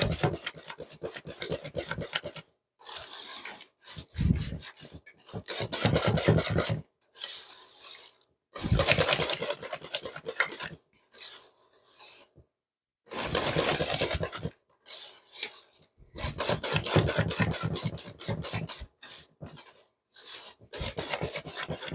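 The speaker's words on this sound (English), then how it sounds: "So you can use a hand whisk." A hand whisk beating chocolate cake mixture in a bowl, rapid rhythmic metallic scraping strokes in bursts separated by short pauses, close and clear with no talking.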